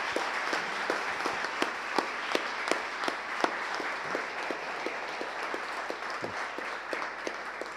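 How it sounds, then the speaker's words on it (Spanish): An audience gives applause for writers, a steady sustained clapping from many hands in a hall, moderately distant and even. "podemos dar un fuerte aplauso a todos los escritores"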